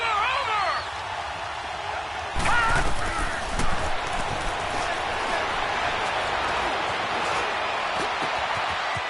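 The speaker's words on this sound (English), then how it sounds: "The crowd getting into it as we come up on a big third down." A stadium crowd roars in a PS4 American football video game ahead of a big third down, a broad sustained wash of cheering with a few sharp thumps early on. A commentator talks over it.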